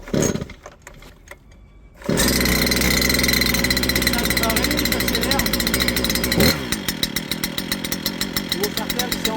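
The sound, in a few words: small engine started by pulling the starter cord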